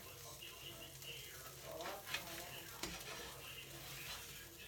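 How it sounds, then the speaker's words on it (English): A tortilla with cheese cooks in a hot pan, giving a steady close sizzle with a couple of sharper scrapes or taps of a utensil pressing it down, under faint background noise. "And the tortilla is already cooking."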